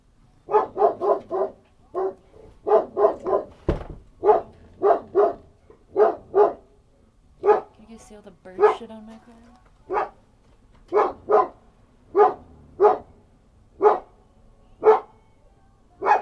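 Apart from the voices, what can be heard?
dog barking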